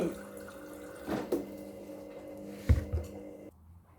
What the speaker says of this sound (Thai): กรอกน้ำนะคะ